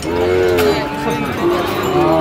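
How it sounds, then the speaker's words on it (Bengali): A young Sahiwal bull calf lets out a long, loud, close moo that rises and falls, with a second drawn-out low call following. "শাহিওয়ালা ষাঁড় বাচ্চা, এটা শুকনো এটা ইন্ডিয়ান"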